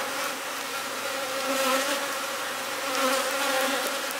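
Honeybees swarm around hive frames during a colony split, producing a dense, continuous buzzing hum, close and steady with slight swells in loudness.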